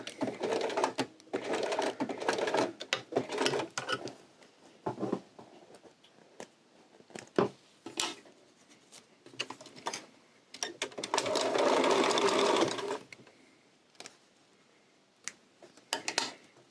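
A sewing machine runs a few short back stitches across a coin purse, then a longer steady burst of stitching, with quiet pauses and small handling clicks between runs.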